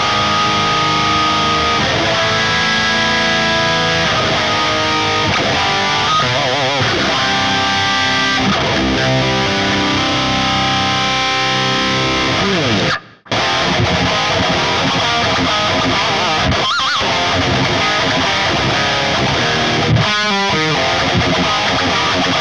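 Electric guitar fitted with Seymour Duncan Dyad parallel-axis pickups plays a long run of sustained, loud distorted chords and melodic lines, broken once by a brief silence before the playing resumes, with no talking.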